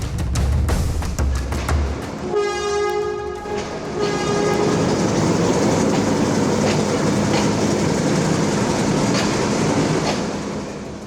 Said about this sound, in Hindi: जब रेलवे के इस ट्रैक के पास बैठे और 7 इंजन का शोर आता है